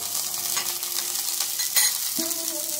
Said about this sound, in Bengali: মশলাটা কষানো হচ্ছে, এর মধ্যে আমরা সামান্য পরিমাণ লবণ দেব